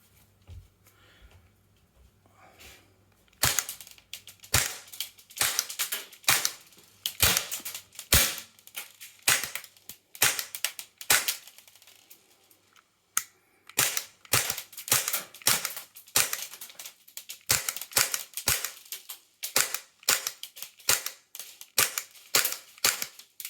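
Airgun shots at about 300 FPS from close range strike a FAST tactical helmet in a rapid series of sharp cracks, some in quick bursts with brief pauses, loud and close.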